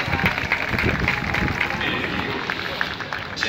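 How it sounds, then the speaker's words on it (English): A baseball stadium crowd in Japan, at a Tokyo Yakult Swallows game during COVID-19, claps in a sustained round of applause for players heading to the dugout, broad and steady, with a voice talking over it. "That round of applause is for the boys"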